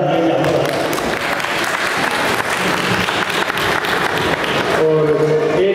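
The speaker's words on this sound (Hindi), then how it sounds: "बार जोरदार ताली दो।" A large crowd at an Ambedkar Jayanti gathering in Chamba claps loudly and densely, a continuous roar of applause with some tonal voices or music showing through at the start and end.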